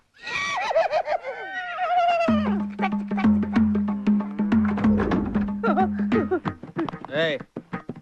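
A horse whinny used as a comic sound effect in a Telugu comedy scene, a long wavering neigh followed by a steady droning tone with sharp knocks, loud and up front, with voices around it.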